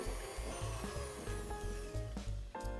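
An electric stand mixer runs steadily on low speed while beating butter and granulated sugar for Linzer cookie dough, giving a close, continuous motor whir with a rhythmic churning pulse.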